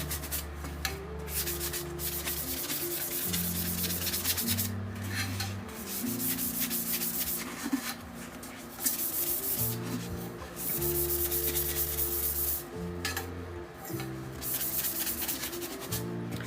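Vinyl being wet-sanded by hand with fine-grit sandpaper produces continuous close rubbing strokes in rhythmic back-and-forth passes, with short pauses, over a low steady background hum.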